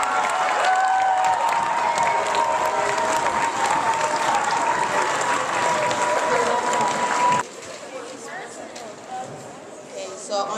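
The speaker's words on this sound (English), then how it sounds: "Give her a big clap." Sustained applause with some cheering from an audience at a spellbowl team celebration honoring a middle school teacher, loud and dense before dropping to quieter scattered clapping, with a voice speaking over it.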